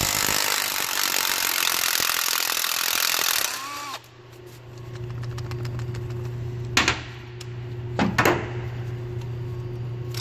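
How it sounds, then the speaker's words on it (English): A tool loosening an 11mm band clamp on a junk Ford 6.7 diesel turbo: a loud, dense burst of mechanical noise for a few seconds, then a lower hum with scattered clanks and clicks. "let's take our 11mm band clamp off"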